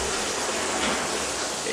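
Steady rushing water pours continuously from a knee-operated tap valve at moderate loudness, a broad hiss with no breaks.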